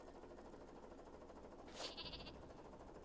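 A single short sheep bleat from Worms W.M.D. rises out of a steady bed of game music and ambience, fairly faint and heard on its own without talk.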